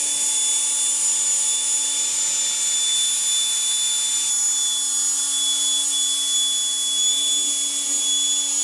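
A handheld leaf blower, drying off a truck, gives a steady, high-pitched motor whine with a constant airy roar, running continuously and close by without any pause or voices.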